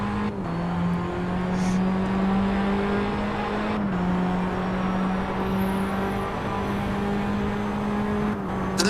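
A Renault-based open-wheel race car in the Assetto Corsa VR racing game holds a loud, steady engine drone with slight pitch shifts as it revs. The sound stays close and continuous throughout.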